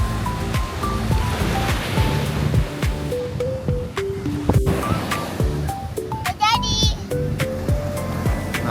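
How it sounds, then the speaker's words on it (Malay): Strong ocean waves wash and crash continuously at a beach campsite in Johor, Malaysia, while children chatter and call out over the surf. "Ombak yang kuat."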